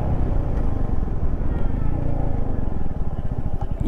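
Motorcycle engine droning steadily at sustained speed of 80–90 on a coastal road ride, loud and close with continuous rumble and wind throughout, no talk.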